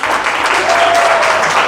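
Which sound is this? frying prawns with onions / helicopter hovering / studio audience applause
studio audience applause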